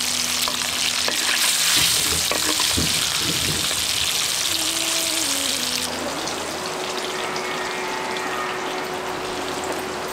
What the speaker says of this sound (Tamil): உப்பு சேர்த்து பொரிச்சு எடுத்துருவோம்.